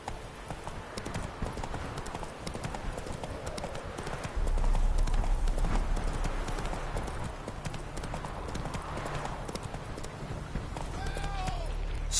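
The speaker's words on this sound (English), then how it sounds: "Come on, Roach." Horse hooves clip-clop steadily in The Witcher 3 as a mount trots and runs over ground, with a rhythmic beat under game ambience and brief voice activity.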